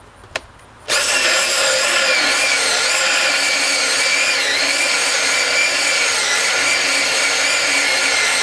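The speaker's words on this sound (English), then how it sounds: "You need a 2¾-inch hole saw." A drill fitted with a 2¾-inch hole saw starts after a brief click and then whines loudly and continuously as it cuts through a wooden board, with no talking over it.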